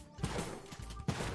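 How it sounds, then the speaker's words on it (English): Explosions in the video game Spelunky 2 go off as a few sharp bursts with short rumbling tails, the first pair close together and a louder one near the end, over a low game backdrop with no talk. "Just create massive explosions."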